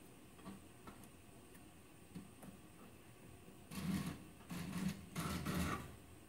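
A hand file scrapes the rough corners of an SKS rifle barrel in one direction, faint scattered ticks first, then three louder rasping strokes near the end.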